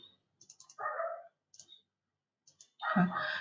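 A computer mouse clicks a few times in quick short bursts on a program window, with spoken words between the clicks.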